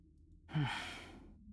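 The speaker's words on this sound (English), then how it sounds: "The heavy breathing of the running silhouette with its tongue hanging out." A single heavy, breathy exhale from a running silhouette in the visual novel Fate/hollow ataraxia, close and soft, lasting about a second against quiet background hum.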